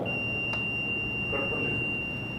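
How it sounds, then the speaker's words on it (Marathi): A steady electronic tone from a voting machine being cleared holds for a couple of seconds, fairly faint, over low background hum. "लॉन्ग बीप येत आहे, मशीन क्लिअर होत आहे।"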